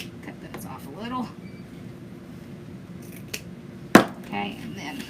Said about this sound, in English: Just gonna cut those off a little.